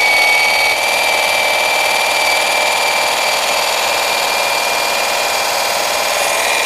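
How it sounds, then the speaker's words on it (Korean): A cordless hedge trimmer with a long 510 mm double-sided blade prunes garden shrubs, giving a steady, loud, unbroken motor whine with a high tonal edge that runs the whole time without any talking. "이걸로도 제가 바로 전정 작업을 좀 해볼게요"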